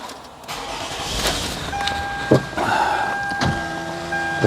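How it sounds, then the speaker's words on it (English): A Lexus ES350 cranks and starts after a battery replacement, a brief starter whir followed by the engine catching, with electronic chimes and a few clicks inside the car. "Now we're gonna start the car."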